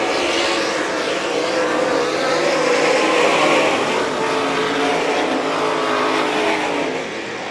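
Sprint cars race at St. Croix Valley Raceway on a summer night, a loud continuous engine roar that swells and fades slightly as the pack circles, with no commentary over it.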